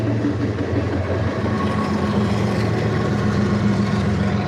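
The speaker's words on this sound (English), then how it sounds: "Boy, that was a short train right there." A short train passes nearby during a Labor Day outdoor stream, giving a steady loud rumble and clatter of rolling wheels with broadband road-like roar that holds evenly for a few seconds, no talk over it.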